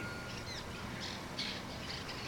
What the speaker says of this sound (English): I feel like I'm finna get attacked by birds real close to a bunch of chimney sweeper nests, and they ain't liking it.